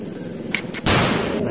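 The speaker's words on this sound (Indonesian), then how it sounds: "Tembakan AK-47." Toy AK-47 gun firing close up: two quick sharp pops, then a loud sustained rattling burst that runs to the end.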